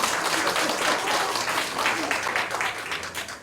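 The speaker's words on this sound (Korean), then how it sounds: "박수." Seminar audience on Reformed theology breaks into brief, moderately quiet applause, a dense wash of many hands clapping together for a few seconds with no speech over it.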